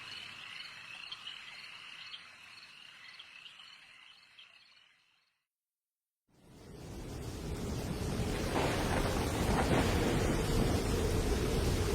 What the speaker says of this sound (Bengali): মুষলধারে বৃষ্টির সঙ্গে শোঁ করে বইছে উত্তাল হাওয়া